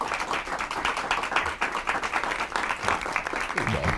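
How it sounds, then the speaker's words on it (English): An audience gives a round of applause at a Fellowship Farm event. The clapping is steady and moderately loud, and a faint voice comes in near the end. "If we could give them a round of applause."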